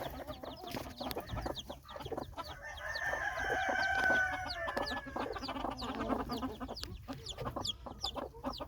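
A broody hen with day-old chicks, heard as soft clucking and chick peeps among other farmyard chickens, with a rooster crowing partway through. The sound is moderate and close, with steady chirping.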